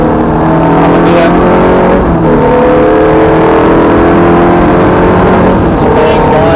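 A Ferrari F430 accelerates around Thruxton Circuit, its engine droning loudly and steadily from inside the car with rising and falling pitch as it shifts, while an instructor talks over it.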